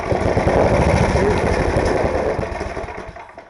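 Small gasoline engine on a snowblower running rough on half choke, a loud, close sputtering chug that weakens and fades out as it stalls after about three seconds.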